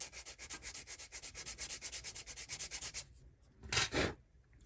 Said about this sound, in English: sanding going on.